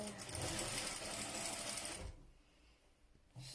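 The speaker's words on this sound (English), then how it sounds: "this is how I'm going to be sewing till the other end" A sewing machine stitches the ruffled hem of a baby dress, running loud and steady for about two seconds before stopping, leaving quiet room noise until a brief restart at the end.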